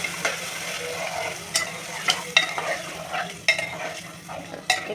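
Chicken korma pieces with ginger and garlic paste are stirred in a frying pan, a soft continuous sizzle punctuated by irregular scraping and clinking strokes of the spoon against the pan, close and fairly quiet.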